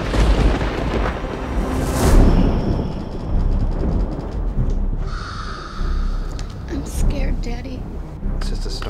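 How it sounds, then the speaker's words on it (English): Thunderstorm in a horror film trailer, with deep rumbling thunder rolling loudly and a sharp crack of thunder, under tense music and faint low voices. "It's just a storm, it'll pass."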